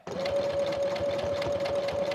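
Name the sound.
sewing machine sewing canvas fabric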